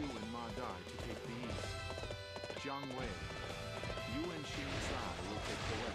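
In Dynasty Warriors 8 on PS3, a horse gallops with rapid clip-clop hoofbeats under battle clashes and game music, while a voice talks over it.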